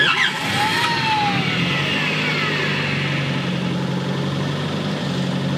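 A car engine idles steadily with an even mid-pitched hum and a low throb, running on its own without any talking.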